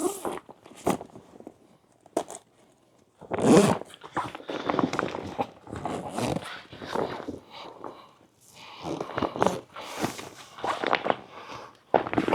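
Zipper on a sauna blanket being worked from the outside, with a series of close, scratchy zipping pulls and rustling fabric across several bursts, a few short pauses between them.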